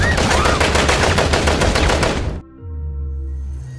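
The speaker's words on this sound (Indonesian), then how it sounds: "Sementara sisanya yang menolak diperintahkan kembali justru ditembak mati." Dense, rapid gunfire from a Rambo film, a sustained barrage of loud automatic shots that cuts off abruptly and leaves a low droning rumble behind.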